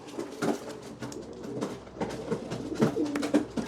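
Domestic pigeon cock, a mature breeding bird, cooing while held in the hand: soft, low, repeated throaty coos in uneven bursts, close and moderately loud, with light handling rustle and no talking.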